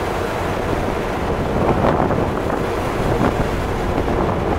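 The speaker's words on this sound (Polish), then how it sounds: "No i przeprawa promowa." Strong wind and breaking waves aboard a ferry crossing the Danish strait, a loud continuous roar of gusts buffeting the microphone over the wash of water, with no voices.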